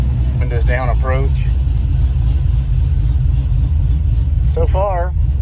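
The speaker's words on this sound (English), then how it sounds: "So far, the truck moves under its own power." A truck fitted with an FTI stall converter drives with its engine running, a steady low rumble throughout while someone talks over it near the start and end.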